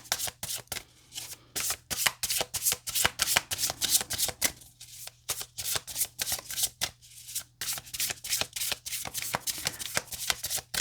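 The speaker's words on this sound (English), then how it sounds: "I like to shuffle on camera" Rapid riffling bursts of playing cards being shuffled, repeated many times in quick succession, close and crisp, with no talking.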